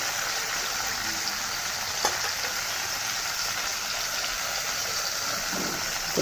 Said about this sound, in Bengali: লাল লাল করে ভেজে নেব লাল লাল করে ভেজে আমি এটাকে উঠিয়ে নেব